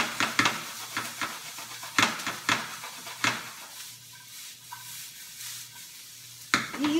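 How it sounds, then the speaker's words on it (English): Onions sizzle in a hot greased pan on a kitchen stove, a steady crackling hiss broken by clattering stirring and scraping knocks, with no one talking. "Put the onions in the pan."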